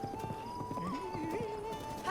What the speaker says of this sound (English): Call my horse. My horse. My bloody horse.